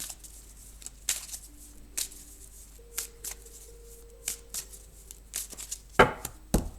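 Oracle deck cards cut and riffled by hand, a run of crisp slapping and ruffling bursts at a steady pace, close and fairly loud, with a louder flurry near the end.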